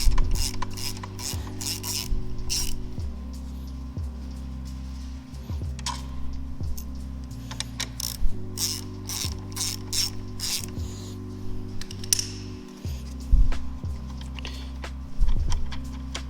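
Ratchet wrench loosening the two 12 mm brake caliper bolts on a Honda Rebel motorcycle, a rapid clicking pawl repeating in bursts with short pauses while the bolts spin out, close up, with no talking.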